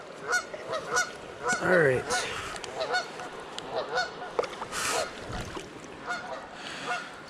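Geese honk repeatedly by a creek, a string of nasal calls near and far over outdoor ambience, with a person briefly speaking.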